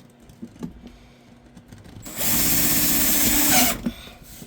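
A cordless power drill driving screws into a Ram truck's HVAC fitting, a loud steady whir for about one and a half seconds after a few soft handling knocks, then winding down.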